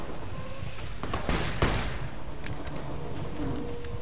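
Enemy gunfire in Fallout New Vegas, several sharp shots and short bursts cracking out over a busy game soundscape, loud and close for a few seconds, with no talk.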